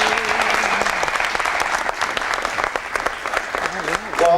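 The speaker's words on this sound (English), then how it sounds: "let's give them a round of applause" A crowd at a boxing event applauds for the boxers, with dense, sustained clapping that fades toward the end as a voice starts speaking over it.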